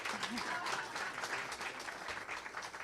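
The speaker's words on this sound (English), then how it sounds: "let's give Dr. Julian Lem a round of applause for an exciting talk" Audience applause after a Café Scientifique science talk, a fairly soft, steady patter of clapping lasting a few seconds.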